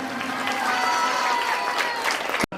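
Loud applause from a seated audience at a Golden Jubilee stage ceremony, a dense steady clatter of many hands that runs for over two seconds before cutting off abruptly near the end.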